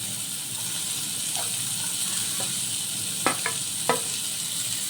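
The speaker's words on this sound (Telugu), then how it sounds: "మొత్తం వెజిటేబుల్స్ అన్నీ బాగా ఫ్రై అయిపోయాయి కదా" Capsicum and carrot pieces fry in a pan with a steady, close hiss of oil, broken by a few sharp utensil clinks against the pan.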